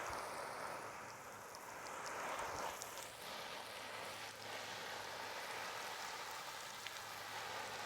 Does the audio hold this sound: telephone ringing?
no